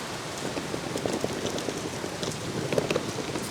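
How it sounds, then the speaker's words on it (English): Torrential rain pours steadily in Japan, a dense, continuous hiss of drops pattering on surfaces close by, with small splashes scattered through it and no voices. "It's raining out there."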